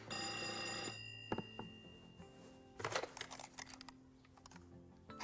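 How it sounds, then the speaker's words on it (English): A telephone bell rings once in a bright, buzzing burst lasting about a second, followed by scattered clicks and soft tapping like keys in a quiet room. "Pick up the phone."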